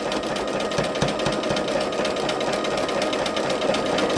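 A sewing machine running fast for free machine stitching whirs in a steady, rapid mechanical chatter with a continuous needle rhythm, close and even throughout.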